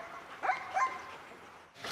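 A Belgian Malinois gendarmerie detection dog training in disused buildings in the Puy-de-Dôme gives two short, yelping barks, fairly faint and echoing in an enclosed space.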